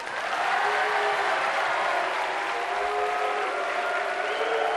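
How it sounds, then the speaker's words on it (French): A television studio audience applauding, dense continuous clapping at steady loudness from start to finish, with no voices over it. "Écoutez, applaudissements du public."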